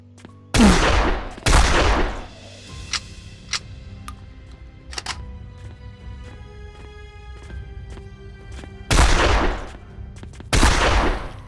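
Shotgun blasts in the zombie shooter Zompiercer, four loud, close booming shots in two pairs with quieter game clatter and ticking between them.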